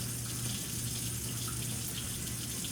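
A tap runs steadily into a sink, a constant hiss of running water at moderate level with no talk.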